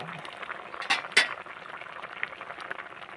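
Fish curry bubbling in a pot, a soft continuous simmer with a couple of sharp metallic clinks from a utensil against the pot partway through, and no speech.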